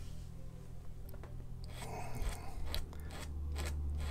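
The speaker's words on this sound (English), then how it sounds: "taking the single-edged razor blade" A single-edged razor blade scrapes watercolor paint off paper in short, scattered scratches, faint and close against a low background hum.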